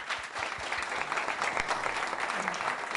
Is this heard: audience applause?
yes